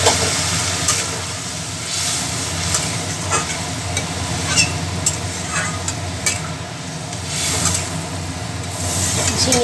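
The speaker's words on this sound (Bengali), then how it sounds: "কষানো হয়ে গেছে, এবারে গরম জলটা ঢেলে দেব।" Hot water poured into a pan of sautéed sarpunti fish curry spices, a steady sizzling, bubbling hiss with stirring and scraping sounds, continuous and close.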